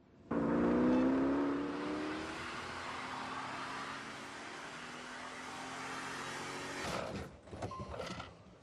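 Car engine in The Grand Tour video game revving hard with clutch spin, a rising whine that settles into a sustained strained drone, then cuts off into a few choppy bursts.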